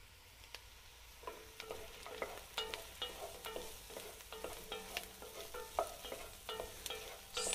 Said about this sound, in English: going to throw in the potatoes.